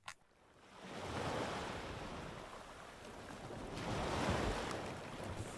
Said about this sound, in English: We awoke this morning to the sound of waves breaking in the distance.